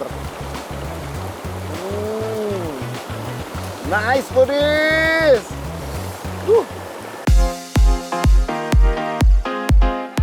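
River water flows around people snacking on fried bananas in the middle of the stream. A steady low wash of water runs beneath lively talking, and sharp rhythmic knocks take over near the end.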